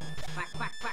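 Quacks from a duck character in the DuckTales video game, a rapid burst of short nasal squawks in quick succession, loud and close, with game sounds underneath.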